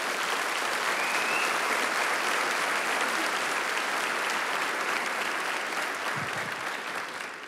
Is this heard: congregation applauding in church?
yes